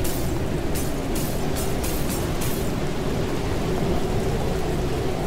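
A video-game thunderstorm with heavy rain pours as a loud, constant roar, with bright crackling bursts of thunder early on and steady rumbling downpour underneath after that, no voices.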